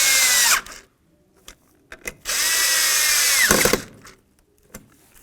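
A power tool snugs bolts on a 4WD actuator bracket of a 1994-2004 Chevy S-10 with two loud whirring bursts, separated by small clicks and taps of hardware.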